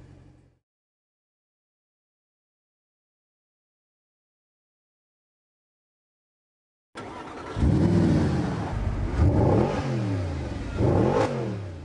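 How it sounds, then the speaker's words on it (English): A car blasts off from Mulholland in Los Angeles, its engine revving hard through rising gear pulls after several seconds of silence, loud and close with repeated climbing sweeps as it accelerates away. "Leno blasts off from Mulholland on his lap of Los Angeles."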